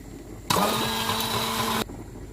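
A blender whirs steadily for over a second while mixing daleem, starting and stopping abruptly, loud and close against a quiet background.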